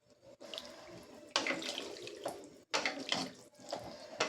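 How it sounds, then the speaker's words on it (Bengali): Water is poured from a bowl into a cooking pot for a Bengali rohu fish curry with vegetables, a splashing, gurgling stream in a few separate pours with short gaps, close and fairly clear. "এখানে আর 1 বাটি জল দিয়ে দিয়েছি।"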